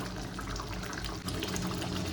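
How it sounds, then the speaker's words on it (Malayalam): Thick ginger curry (inji puli) simmering in a pot, a steady bubbling, watery hiss that stays close and even throughout. "ഇനിയും ആയിട്ടില്ല തിളച്ചുകൊണ്ടിരിക്കട്ടെ"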